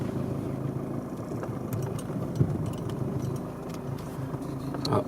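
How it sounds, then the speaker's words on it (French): A Mercedes C200's engine runs steadily with a low, even mechanical hum and road rumble, heard from inside the car, with a few faint knocks over the drone. "Ah déjà ça fait un bruit un peu plus de voiture normal."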